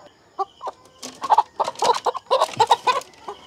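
Lohmann layer pullets on a Cebu poultry farm cluck in quick, overlapping bursts, close and fairly loud, forming a busy flock chatter with no talking.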